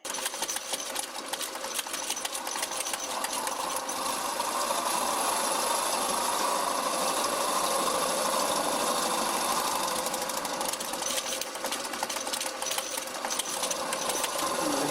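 Wood lathe turning a bowl with a boring bar rubbing the wood: a loud, continuous buzzing whir with a rough, chattering grind that holds steady for the whole stretch, no voices.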